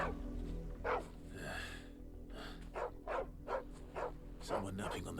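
Dog whimpering and soft yips inside the Final Fantasy XVI video game, a few short plaintive bursts heard at moderate level over a low steady game ambience.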